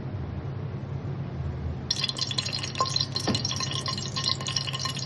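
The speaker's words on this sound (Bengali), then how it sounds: "দিয়ে দিচ্ছি ঘি" Ghee poured into a pressure cooker for home-made biryani, a clear liquid pour with dripping and glassy clinks starting about two seconds in, over a low steady kitchen hum.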